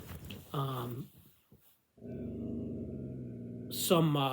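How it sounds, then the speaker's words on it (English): A pet dog close by lets out a high whine, then a long low growl, and ends with another higher whimper, all in a quiet room. "That's my dog, sorry."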